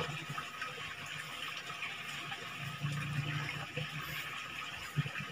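Water pours steadily over freshly stripped tawes fish eggs during artificial spawning, making a continuous close rushing splash with no clear breaks.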